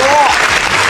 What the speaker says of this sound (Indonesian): Tepuk tangan buat semua tim yang hadir di sini